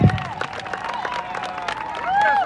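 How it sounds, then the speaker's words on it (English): Audience at a live storytelling event in a winery claps and cheers, scattered claps with whoops and voices rising over a moderately loud crowd, swelling toward the end. "Clap it up for Jessica!"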